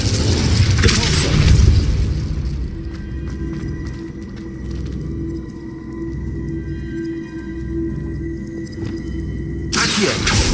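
In Hogwarts Legacy, an Expulso blasting spell detonates with a heavy, booming burst and a roar that falls away into a lower rumble. A second loud blast erupts near the end.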